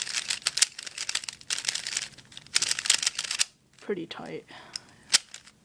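The spring mechanism of a newly unboxed cutting tool snaps and crackles in several sharp close-up bursts, with a brief spoken comment between them.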